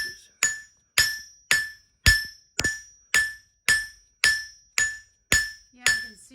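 A blacksmith's hammer rings out in eleven evenly spaced, bright metallic strikes on hot steel over an anvil while forging a leaf for a trivet, each blow clear and close with a short decaying ring.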